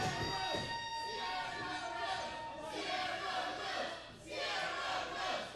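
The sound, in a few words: wrestling crowd cheering for Sierra Rose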